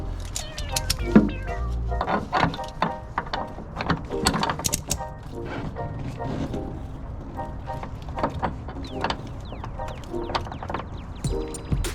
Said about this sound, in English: Then you're gonna start wrenching.